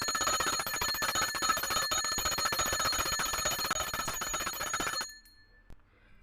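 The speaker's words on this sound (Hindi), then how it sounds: "घंटी बजा देंगे।" A small metal worship bell is rung during a puja with Kartik month lamp offerings, bright rapid continuous ringing close by for about five seconds before it stops abruptly, leaving near silence.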